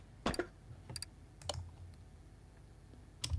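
Typing on a computer keyboard at a desk, with a few short bursts of quick key clicks separated by pauses, fairly close and quiet over faint room noise.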